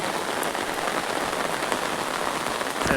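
Heavy rain pours steadily on a surface near a field of chili crops, making a dense, continuous hiss with scattered louder drops throughout.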